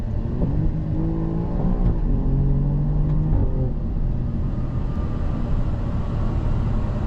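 A 2023 Alfa Romeo Giulia Quadrifoglio engine revs through gears with rising and dropping pitch sweeps, a steady rumble throughout, and brief sharp exhaust pops at the upshift points.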